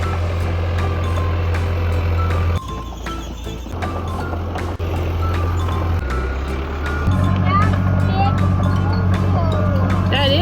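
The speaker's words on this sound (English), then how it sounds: "That is a big bulldozer." Big bulldozer working a yard clean-up, its diesel engine rumbling steadily while the reversing alarm beeps in a regular repeating pattern, close and loud, with engine pitch shifts partway through and voices speaking over it.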